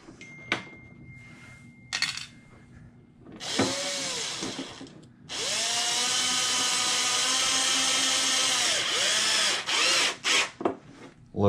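Power drill driving replacement screws into a Traxxas Xmaxx RC monster truck, first a short whirring burst, then a longer steady run of about five seconds ending in quick stop-start pulses, heard up close with no talking.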